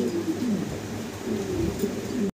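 A male fancy pigeon coos repeatedly at close range, low throaty rolling calls in quick succession with faint background noise and no talking.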